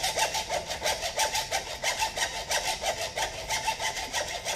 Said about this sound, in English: I threaded the hacksaw blade in there, and hopefully I can hacksaw this thing enough that I can take a chisel and break it off